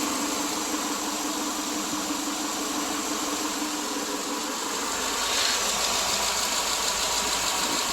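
A 2009 Subaru Legacy with a loose exhaust part rattles steadily over a running engine. The noise is dense and continuous, heard close up with no talking.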